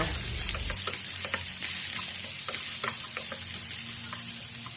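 Onion, cucumber, fresh chili and bell pepper sizzle loudly in a hot pan while a utensil stirs them, scraping and clicking repeatedly over the constant frying hiss, with no talk.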